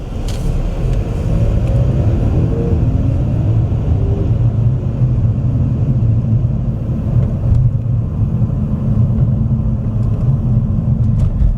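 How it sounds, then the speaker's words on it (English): Road traffic during a rush-hour-like slowdown, heard from inside a vehicle waiting in a right lane for a truck to turn: a steady, loud low engine and road rumble that continues throughout with no talk. "it's kind of like rush hour traffic"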